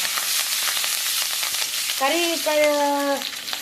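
Curry leaves frying in hot oil in a home kitchen as part of a dal sambar with amaranth greens, a steady close sizzle throughout with a brief tonal squeak or whistle over the sizzle near the end; no talking.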